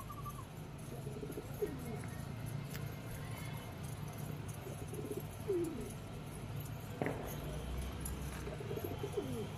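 A pigeon at an outdoor pigeon setup gives soft, low cooing calls several times against a faint background murmur, moderately distant and quiet.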